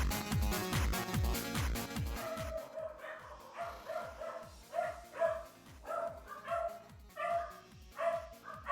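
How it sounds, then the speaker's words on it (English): A dog barks in a rhythmic run of repeated yips and woofs over a pulsing background beat, the barks moderately loud and steady throughout. "Bark, bark, bark."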